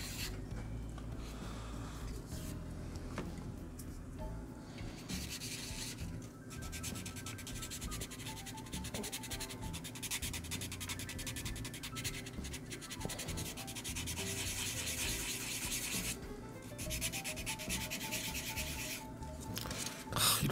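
Sandpaper of 600 grit rubbed over the plastic body of a 1/24 Hasegawa Mazda Cosmo Sport L10B model kit, a close, continuous scratchy rubbing in long back-and-forth strokes with brief pauses.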